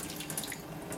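Water from the waste release valve of a small moonshine still draining into a sink, a steady soft trickling splash, faint and continuous with no voices.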